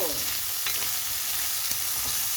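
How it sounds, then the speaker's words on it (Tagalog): Chicken liver and other ingredients sizzle in a frying pan while being stirred, a steady close hiss of frying broken by soft scraping strokes of the spoon. "Tapos halo-haloin natin guys. Ayan, para mag-combine ang mga sangka."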